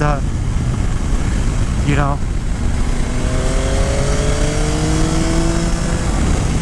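A 2022 Yamaha Tracer 9 GT motorcycle engine held high around 7,000 RPM on a country road, a loud steady close-up drone with rising pitch sweeps and a quick gear change, with wind roar and someone talking over it.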